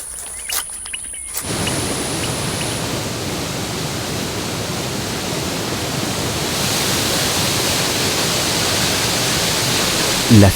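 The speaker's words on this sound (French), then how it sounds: "C'est le monde des cascades qui surgit sous la canopée." Waterfalls rumble under a forest canopy as a dense, constant roar that fills the whole clip, growing slightly louder toward the end, after a brief quieter opening with a high tone.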